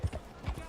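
Horse hooves clip-clop in a few soft, quick strikes, faint and close, beside a man's brief greeting in a Western setting.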